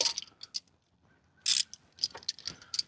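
An oil filter wrench on a ratchet clicks in short bursts of metallic pawl ticks during a Ford Bronco oil change, with brief pauses between close, crisp turns.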